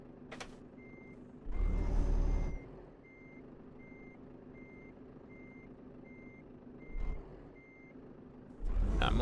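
Truck reversing beeps in the Euro Truck Simulator 2 video game repeat evenly in a quiet, regular series, with bursts of air brake hiss and engine rumble breaking in several times.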